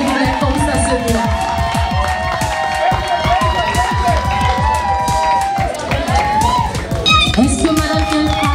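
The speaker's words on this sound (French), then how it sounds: "Est-ce qu'on peut applaudir pour Sa Majesté, s'il vous plaît, comme ça se doit?" Applause and cheering for an honoured staff member at a company May Day medal ceremony: a loud crowd claps rhythmically with shouts and cheers rising around the beat, close and continuous.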